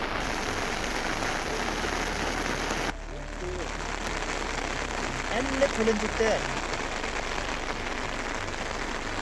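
Steady monsoon rain falling on a surface, a dense even hiss of drops that continues throughout, briefly dipping then resuming.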